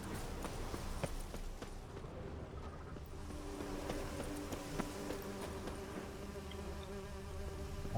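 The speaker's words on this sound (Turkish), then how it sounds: "Arılar geliyor." Bees buzz in The Witcher 3, a quiet, steady insect drone mixed with soft game background sounds and a few light taps that may be hoofbeats, all at low volume.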